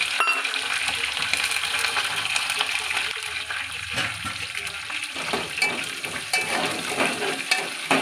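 Onions frying in hot oil with green chillies, garlic and curry leaves for a Telugu raw-mango dal, giving a steady close sizzle with scraping stir strokes throughout and a brief voice in the background.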